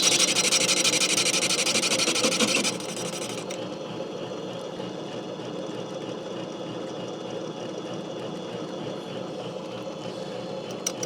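Machine tool taking a fine cut on the base of a Pioneer cylinder for a Homelite chainsaw, worked on a tailgate; a steady, close grinding whir that steps down after about three seconds to a lower continuous hum.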